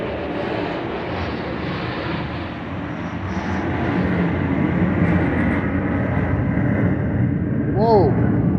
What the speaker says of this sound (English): As you can hear the plane in the background right there.